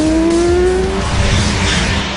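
Sleeping Dogs game car revving hard with a long rising tire squeal, loud and close, engine roar and skidding filling the whole burst.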